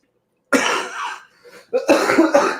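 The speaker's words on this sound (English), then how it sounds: "it's me coughing like that" Two harsh, close coughs break the silence, a long rasping one followed after a pause by a second, choppier fit of coughing.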